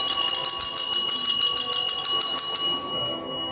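Hand bell rung quickly and repeatedly in a loud, bright, steady run during a live selling stream, then cut off and trailing into a short fade.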